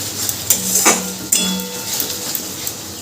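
Tomato and green chilli being stirred into masala in a pan for a katla kalia, heard as scattered metallic clinks and scrapes of a spoon against the pan, close and intermittent.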